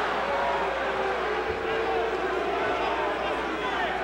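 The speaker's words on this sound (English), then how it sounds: "Crowd beginning to get restless." A restless arena crowd at a Mike Tyson vs Jesse Ferguson boxing match keeps up a steady, distant murmur of voices and shifting noise, with a broadcast commentator talking over it.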